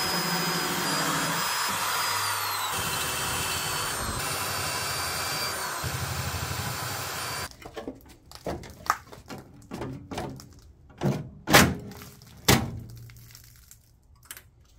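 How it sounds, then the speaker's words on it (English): A power drill bores pilot holes through the sheet metal of a Nissan 240SX wheel well, giving a loud steady whine for several seconds, then stopping, followed by scattered knocks and clanks of tools on metal. "my next step is to continue drilling out these pilot holes along to here to get the rest of the wheel well off"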